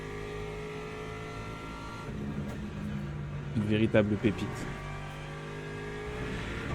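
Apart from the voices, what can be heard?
GT3 race car engine in a racing video game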